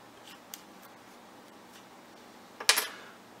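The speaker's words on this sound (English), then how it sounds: "simply cut it with a safety razor" A safety razor slices through an anti-static bag to cut a strip, giving one short, sharp crisp cut near the end after a faint tick earlier, close and fairly quiet.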